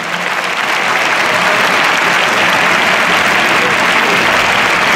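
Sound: applause for the National Police at a carriage exhibition

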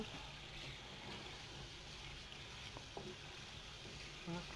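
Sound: oil simmering while stirring the curry in a pan

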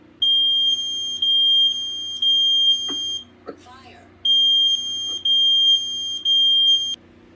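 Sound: smoke alarm sounding

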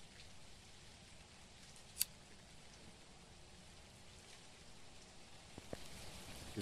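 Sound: rain in video game Phasmophobia

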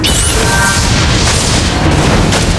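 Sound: turret destroyed explosion in Mobile Legends: Bang Bang video game

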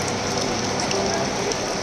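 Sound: summer rain falling at temple festival

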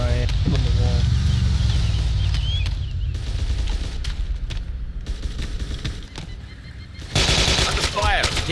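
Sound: gunfire in a military simulator video game

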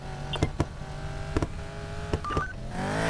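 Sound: phone dialing in Need for Speed Payback video game

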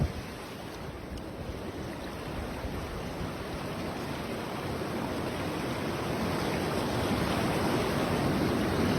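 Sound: flooded river rushing

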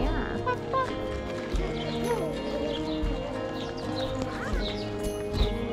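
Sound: horse

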